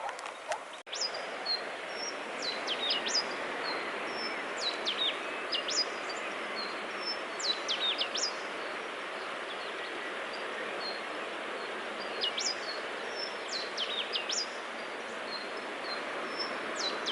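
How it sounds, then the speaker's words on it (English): Duetting birds near the sea trade repeated high, scratchy chirps back and forth in clusters over a steady wash of surf and wind, moderately distant with no talking. "I'm trying to record the call of these birds. That's a duet."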